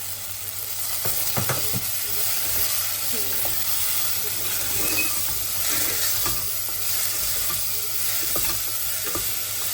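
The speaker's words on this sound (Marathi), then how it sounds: "मी डायरेक्ट टाकून देते कारण काय तेल गरमच असतं डिफ्रोस्ट होऊन जातात ते" Frozen peas hit hot oil in a pan and sizzle in a continuous hiss, with a few scraping stirs and clinks along the way.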